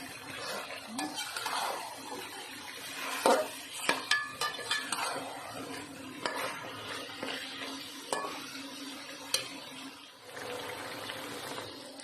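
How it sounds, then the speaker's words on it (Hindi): Salt, turmeric and green chillies fry in a pot for biryani, a soft steady sizzle under repeated clinks and scrapes of a spoon stirring against the metal. "अब इसे हम अच्छी तरह थोड़ा सा 5-6 मिनट तक भूनेंगे।"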